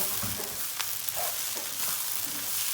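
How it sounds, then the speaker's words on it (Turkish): Melted butter is poured over open rice dolma, giving a soft, continuous crackling sizzle close by, with faint knocks and no talking. "E, tereyağın az bir kısmını da üstüne dökeceğim"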